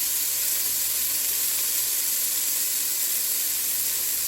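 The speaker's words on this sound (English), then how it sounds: "I took the fattier pieces and we're going to put them in a single layer to brown" Fatty beef pieces patted dry and laid in a single layer in a hot pan, sizzling as they brown; a steady, bright, close-up hiss runs throughout with no talk.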